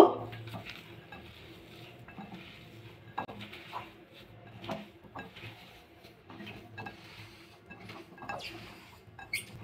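A paneer ball mixture being mixed with spices and salt in a metal bowl, giving soft repeated scraping and stirring with intermittent light clinks of a spoon against the dish, fairly quiet and close.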